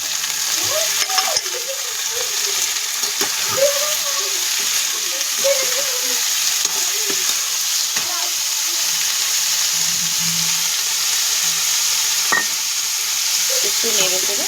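Paneer is stirred and fried in a pan, a constant sizzle broken by repeated scraping knocks of a spoon against the pan. Faint sounds from nearby come and go in the background.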